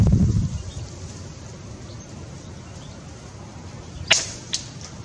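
A single sharp crack of a CCM Ranger air rifle shot at a crow about midway, followed by a faint second snap, over gusty wind noise after an initial muffled thump.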